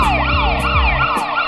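A wailing ambulance siren in a medicine advert sweeps up and down in repeating cycles, loud and close, sounding steadily on its own with no talking.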